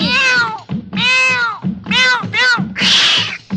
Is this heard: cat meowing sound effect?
yes